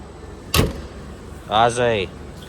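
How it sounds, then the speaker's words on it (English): A single sharp metallic slam as a Subaru Forester's bonnet is closed, followed a moment later by a short burst of voice. "let us close the bonnet"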